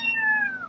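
A domestic cat lets out a single clear, drawn-out meow close by, falling slightly in pitch, with nothing else around it.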